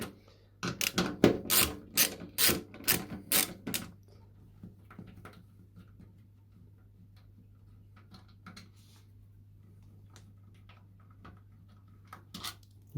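A 10mm socket ratchet loosening the fuel tank bolts on a Honda VFR800 motorcycle, giving a quick run of loud, close clicks in the first few seconds, then near quiet with a low steady hum.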